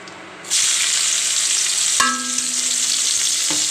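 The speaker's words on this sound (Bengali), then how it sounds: "আদা রসুন পেঁয়াজ মরিচ একসাথে বেঁধে নিচ্ছি" Chopped onion, garlic, ginger and chili hit hot oil in a pan after meat has been fried, bursting into a loud, sustained sizzle with a couple of sharp utensil clinks.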